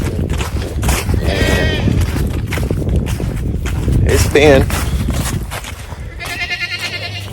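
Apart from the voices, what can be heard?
goat bleating on a farm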